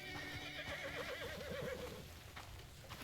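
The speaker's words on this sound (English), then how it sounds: "Oh, you're such a cute horsey." Horse neighing in the video game Crimson Desert, a clear warbling whinny rising and falling over about a second, with soft hoof clops and ambient game sound around it, no talking.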